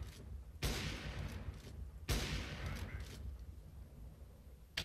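Gunfire from the game CS:GO on the Dust 2 map: two sharp, loud bursts of shots, each followed by a rolling tail, heard close with no speech over them.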